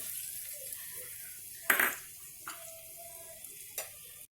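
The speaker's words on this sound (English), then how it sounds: "The tadka is ready and now I am going to add it on the sabji" Hot tadka poured into a chicken curry, giving a sharp sizzling burst followed by a couple of quieter sizzles and clinks over a faint background hiss.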